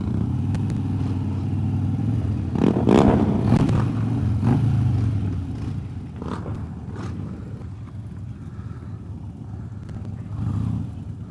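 Harley Dyna V-twin motorcycle rumbling outdoors, revving a couple of times and pulling away, its engine noise gradually easing as it rides off.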